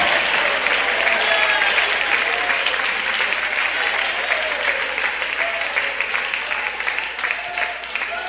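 A worshipping congregation in a church service keeps up sustained, vigorous clapping, a thick continuous roar of hands with faint voices mixed in underneath.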